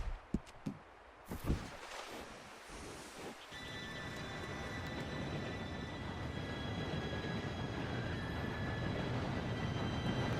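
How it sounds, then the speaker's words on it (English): Train arriving in Red Dead Redemption 2, first a few sharp knocks and thuds, then a building low rumble with a rising metallic whine as the cars roll closer. "Train should be here any minute now."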